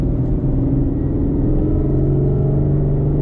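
Ford Mustang GT 5.0 with a rowdy ghost cam and Lund Racing tune, a loud close lumpy idle rumble with choppy, uneven loping pulses, steady throughout with no talk.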